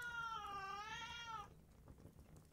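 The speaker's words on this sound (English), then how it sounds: "I feel like I'm being upstaged by a 3-kilogram cat here" A small cat weighing about three kilograms lets out one long, drawn-out meow that wavers in pitch, then gives way to a quiet background hiss.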